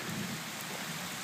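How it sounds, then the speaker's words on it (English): Steady heavy monsoon rain hissing across the whole moment, heard from under a covered bridge, a dense even wash of drops with no voices and no breaks. "Rain."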